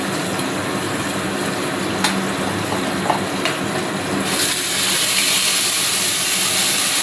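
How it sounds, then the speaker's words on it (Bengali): Blended onion paste added to hot oil already crackling with tempered spices, giving a loud, close, continuous hiss that swells into a stronger, brighter sizzle partway through. "তেলের উপর পেঁয়াজটা দিয়ে দিলাম যতটা লাগবে"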